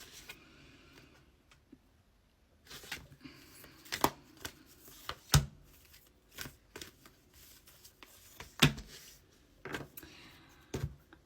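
Tarot cards shuffled by hand, a quiet riffling rustle broken by repeated sharp snaps and taps as the deck is squared and cut, irregular bursts close up with no talking.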